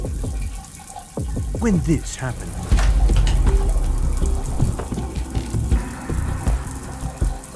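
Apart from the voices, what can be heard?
shower water running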